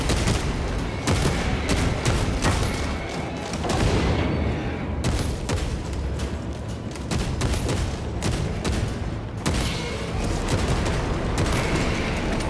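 Heavy, rapid bolter fire in Warhammer 40K Space Marine 2, loud booming shots in dense repeated bursts with brief pauses between volleys.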